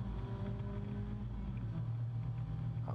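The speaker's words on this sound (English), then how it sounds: "Let's listen to the engine as he goes through." A Mazda MX-5 race car's engine drones steady and low from close by, heard on board at Oulton Park while climbing Clay Hill, with wind noise.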